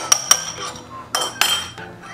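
Seasoning for roasted turkey wings, with bay leaf and paprika, mixed in a bowl: a few sharp metallic clinks of a utensil against the dish, then a brief scraping stir, close and without talk.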